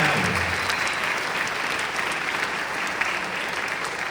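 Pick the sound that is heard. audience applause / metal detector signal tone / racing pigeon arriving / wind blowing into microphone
audience applause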